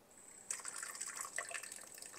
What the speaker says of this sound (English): I just have the water just dribbling in, and that oxygenates it as well.